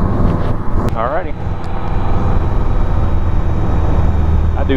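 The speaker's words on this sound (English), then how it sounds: "I do hear a little bit of engine noise in this one." A steady, close aircraft engine drone fills the clip, heard through a headset microphone, with muffled voices speaking briefly over the constant hum.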